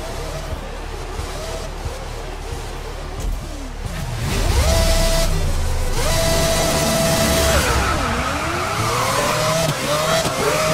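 Race cars in Grid 2019 roar off the line at a race start, engines revving with rising and falling pitch sweeps, tires squealing, the noise building loud and dense after a few seconds with a brief voice underneath.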